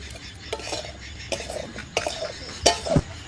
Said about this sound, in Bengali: নাও তরকারিটা নাড়ো।